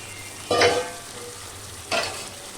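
Water goes into a hot pan of simmering chicken curry with salt and chilli, setting off two short, sharp sizzling bursts against a low, steady background.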